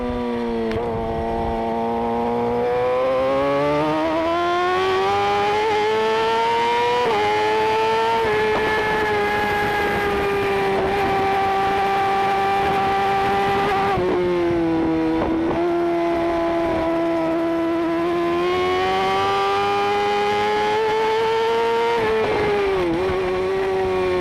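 Sportbikes race through a hairpin at Shannonville in an amateur CSBK round, with loud, close engine whine that rises and falls as the riders shift and carry speed through the corner, with no talking.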